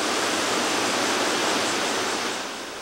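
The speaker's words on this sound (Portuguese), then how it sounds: "Em uma cachoeira deste tamanho, o barulho é intenso." A 144 m free-falling waterfall at Caparaó roars with a loud, steady, dense rush of falling water, easing slightly at the end, with no voices.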